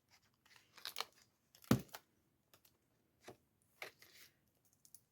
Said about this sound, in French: On va enlever le scotch comme ça.